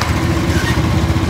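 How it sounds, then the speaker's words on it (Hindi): A motorcycle ridden along a dusty road, with a loud, steady engine drone and rumbling wind noise filling the whole moment, no talk. "मोटरसाइकिल से निकले हैं,"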